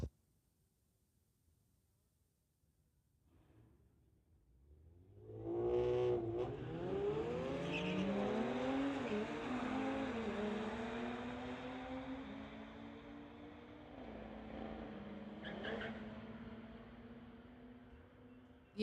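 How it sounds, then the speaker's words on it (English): A 2018 Audi and an Infiniti launch off the line at a street-legal drag strip. Engines build from a quiet idle into a loud, sustained, rising roar as they accelerate through the gears, then fade slightly into the distance. "Ethan on the Lordco side, 2018 Audi, going against the Infinity on the TCS side."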